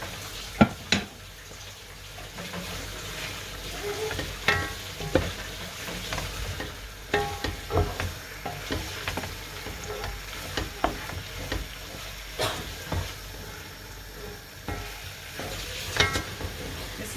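Okra being stirred in a frying pot while cooking a Nigerian/Ghanaian dish, with a steady sizzle and irregular scraping strokes of the spoon throughout, fairly close and moderately loud.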